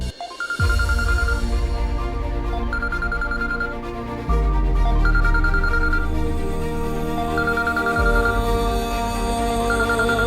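A phone rings in a Tamil TV serial scene, with repeated short trilling electronic ring bursts over a steady musical background, loud and close, with no talking.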